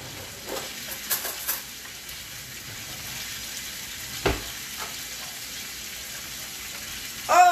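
Butter sizzles and spatters in a hot pan in a home studio kitchen during Chinese takeout cooking, a steady frying hiss with a few sharper crackles and stirring sounds.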